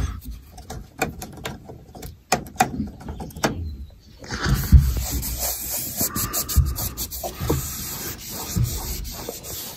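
Scrubbing brush working over the rusty floor pan of a 1971 VW Westfalia, a steady close rasping rub with irregular strokes, continuing without talk after a few sharp knocks and clatters at the start.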